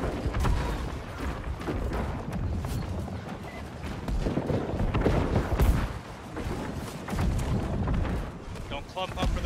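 Dense rumbling battle noise in the video game New World, with repeated heavy booms and blasts of cannon fire during a war attack, continuous and loud, with voices mixed into the din.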